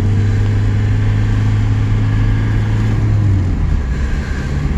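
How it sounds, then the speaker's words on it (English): A 1996 VW Passat B4 with a 1.9 TDI diesel engine pulls at wide open throttle, a loud, steady drone with a strong low hum that drops off near the end. "This is wide open throttle."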